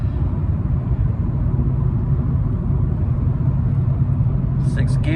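A 2012 VW Golf TDI manual diesel cruising on the highway in sixth gear, a steady low droning engine and road rumble heard from inside the cabin, with a voice talking over it.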